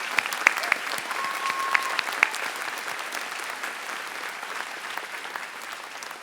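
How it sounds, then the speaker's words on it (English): Audience applause at a college commencement ceremony, a steady wash of clapping from a large crowd with a few sharp nearby claps, no talking. "Let's give them all applause."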